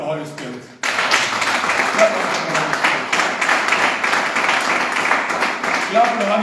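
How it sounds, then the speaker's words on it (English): Church congregation bursts into loud, dense hand clapping after a brief quieter opening, a continuous close crowd of claps filling the room with faint voices mixed in. "Clap on for the Holy Spirit."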